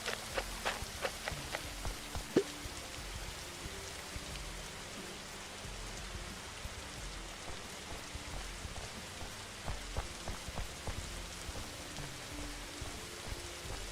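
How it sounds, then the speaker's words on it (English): Rain falls steadily in a zombie survival video game, a soft continuous patter with scattered sharper drops hitting surfaces, heard alone at a low, even level. "Yeah, rain's falling everywhere."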